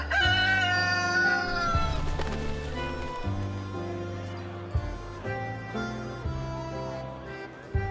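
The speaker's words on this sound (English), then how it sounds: "This is a moo, my white rooster." A white rooster crows in the video game Reverse 1999. A loud, close crow opens over a steady game music backdrop, then fades into lower, clucking tones as the music continues.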